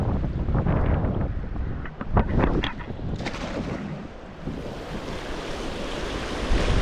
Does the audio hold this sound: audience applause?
no